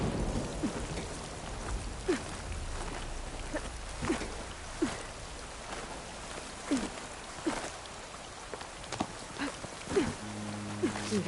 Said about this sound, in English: That storm came out of nowhere.